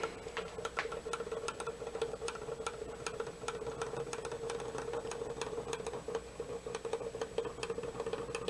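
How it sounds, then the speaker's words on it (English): Hornby Dublo model train with a 1950s 3-pole motor pulling a load of Hornby wagons, a steady running whir with regular ticking clicks of wheels over rail joints throughout. "Pulling a good load of Hornby wagons. Still going."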